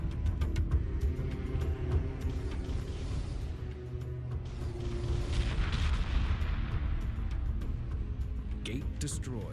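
A hyperspace gate blows apart in the space strategy game Homeworld 2, a dense rumbling boom rolling on steadily amid layered game effects, with a voice talking over it.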